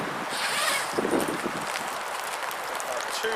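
Two zips on an Outhaus swag tent being pulled open, short close rasping strokes with brief rustles of fabric between them.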